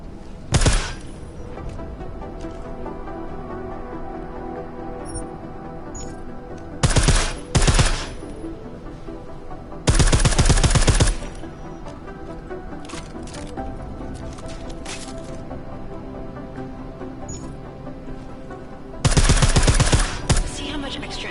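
Suppressed gunfire in the game Deus Ex: Mankind Divided comes in several loud, dense bursts of rapid muffled shots separated by quieter stretches of game ambience.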